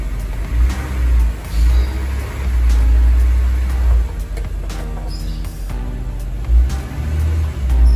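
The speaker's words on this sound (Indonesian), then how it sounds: "Kita tekan pedal gas penuh, RPM hanya naik sampai dengan 2500 RPM." A car engine with a check-engine fault and a fuel-injection malfunction revs under full throttle but stays capped near 2500 RPM, a loud strained droning rumble that swells and falls repeatedly without climbing higher.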